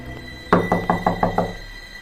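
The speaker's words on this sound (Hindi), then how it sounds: "जब दरवाजे पर अचानक दस्तक हुई।" Sudden knocking on a door on a rainy night: six quick, evenly spaced raps in a burst lasting about one second, fairly close and clear, with no voices around them.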